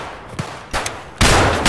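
Escape From Tarkov gunfire: two brief, moderately loud shots spaced apart, then a louder sustained burst of shots rings out and runs to the end, with no talking.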